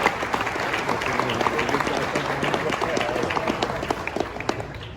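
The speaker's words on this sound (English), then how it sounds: "So give yourself a round of applause for our scouts" A roomful of people applauds steadily at a scouting award ceremony. The clapping is dense and sustained, with scattered voices in the crowd, and it tapers slightly toward the end.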